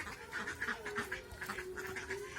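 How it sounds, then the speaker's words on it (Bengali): Ducks resting in the sun near water, giving repeated close quacks and nasal calls in a quick, uneven series against faint background. "তাই হাঁসগুলো সেমাতে জিরাচ্ছে"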